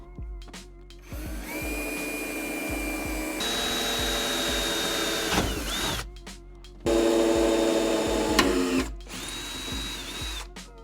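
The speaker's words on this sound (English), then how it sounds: "I'm going to pre-drill these 4 holes" A power drill pre-drills screw holes in a car door for a speaker upgrade, whining up in several bursts separated by short pauses, the pitch shifting as the bit bites, close and fairly loud with nobody speaking.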